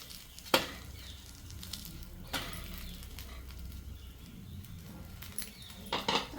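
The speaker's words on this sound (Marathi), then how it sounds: "तर आता आपण दुसरी बाजू पण उलटून घेऊया" Corn pancake batter sizzles steadily in a hot pan as it is flipped, with a soft frying crackle under a few sharp clinks and scrapes of the spatula against the pan.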